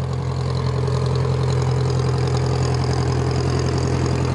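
A small Forest Service beetle dozer sits idling close by, a steady low diesel rumble with a faint rhythmic knock and no change in pace, no voices.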